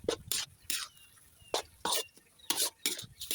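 Soaked rice noodles stir-fried in sauce in a pan, close irregular scraping and tossing strokes of a spatula with soft sizzle between them.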